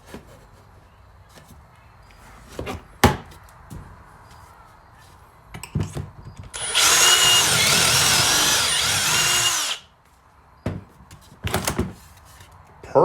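A Kreg 720 Pro pocket-hole jig bores a pocket hole into wood with a loud, steady drill whine lasting about three seconds, framed by a few sharp clunks and knocks before and after.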